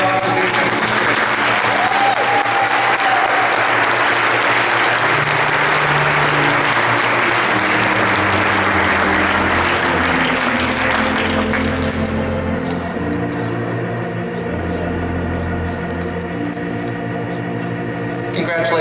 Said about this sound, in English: Please give them a round of applause to the students.